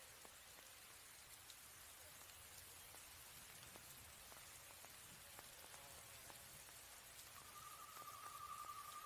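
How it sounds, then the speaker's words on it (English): Steady rain in the video game Ghost Recon Breakpoint patters down, with scattered individual drops ticking nearby and a faint high tone rising near the end. "You listen to the rain."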